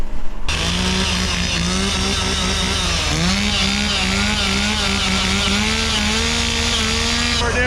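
A chainsaw cuts out a jammed log with a loud, continuous snarl close by, its pitch wavering slightly under load as the cut goes on.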